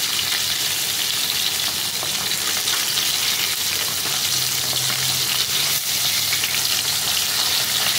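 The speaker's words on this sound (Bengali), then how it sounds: "একদিক ভাজা হয়ে গেছে, আমি এবার উল্টে দিই আর একদিক ভেজে নেবো ভালো লাল করে একদম" Fish fry in oil in a pan, a constant close crackling sizzle that holds steady for several seconds, with a faint low hum and no talking.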